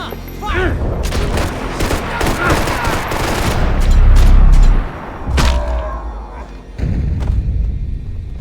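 Video game gunfire on the front line, with bursts of rapid shots and heavy thuds and booms, loud and close, while voices speak over the fighting.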